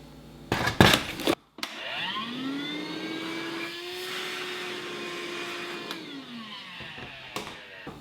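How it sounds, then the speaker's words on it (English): Vacuum cleaner sucking dust out of a gap in wooden flooring, a steady loud whine that rises in pitch as the motor spins up and holds for several seconds before winding down, after brief knocks at the start. "I'm gonna vacuum it out so there's no dust in it."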